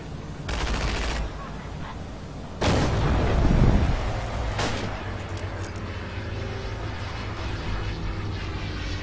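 Grenades thrown from a bunker burst in a Forgotten Hope 2 multiplayer battle on the Mareth Line map, two loud booming blasts a couple of seconds apart with a rumbling tail, then a quieter third crack and lingering battlefield noise.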